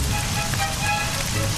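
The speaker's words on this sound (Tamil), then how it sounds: "ஐயா, மழை பெய்யுதுடா." Steady cartoon rain pours down in a forest scene, a dense, even hiss that fills the moment without pause, loud and continuous with no voices over it.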